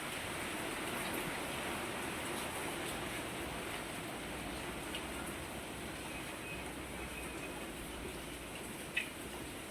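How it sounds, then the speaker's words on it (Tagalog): Dense, continuous hiss of heavy rain pouring steadily, with one brief click near the end; no voices. "Patuloy lakas ng ulan."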